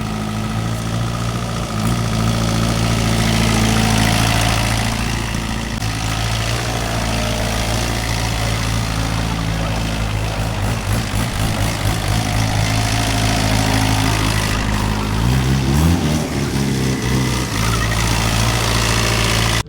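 A Mahindra 585 DI diesel tractor engine idles steadily and close by, a continuous low throbbing rumble with vibration that holds even throughout, with no talk over it.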